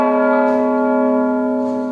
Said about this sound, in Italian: il battito della campana è ormai in forma elettronica